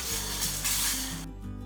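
Whole spices sizzle and fry in hot oil in a pan for country chicken chops, a steady close hiss with faint stirring, cutting off sharply near the end to a quieter low hum.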